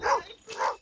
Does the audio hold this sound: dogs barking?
yes